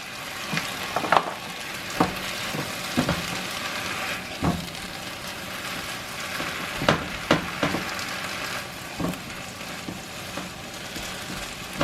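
Food sizzles steadily in a pan as it cooks down, a close continuous frying hiss broken by occasional clicks and stirring scrapes, with no voices.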